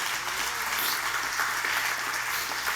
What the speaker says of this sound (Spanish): Den un aplauso a Dios si usted lo recibe.